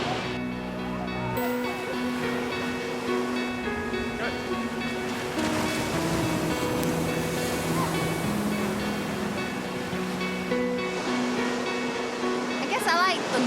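Big ocean waves and surf roll and wash steadily at a beach, a loud continuous roar with a faint hum of other tones underneath and no talk.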